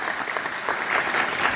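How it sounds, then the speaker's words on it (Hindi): An audience claps together at a motivational seminar, giving loud, dense, steady applause that swells slightly toward the end of the short burst, with no talking over it. "एक बार जोरदार ताली हो जाए"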